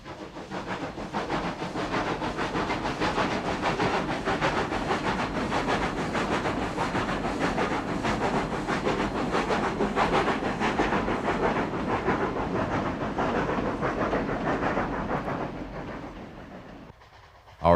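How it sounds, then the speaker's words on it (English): A Cumbres & Toltec steam train rolls across the Chama River with a steady, loud rumble and hissing clatter of wheels on rails that holds for most of the stretch, then fades toward the close. "The train rolls across the Chama River shortly after departing the depot."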